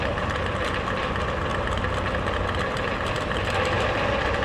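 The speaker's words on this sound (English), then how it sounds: "if there's a way to describe how these motorcycles sound, it is nothing short of a very," Super Eliminator drag racing motorcycles idle together in a dense, raspy, continuous engine drone, loud and steady with no gaps.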